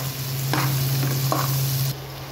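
Chili and onion sautéing in a pan for chicken adobo, a close steady sizzle with a couple of short stirring scrapes over a low hum, ending abruptly with quieter hiss, no speech.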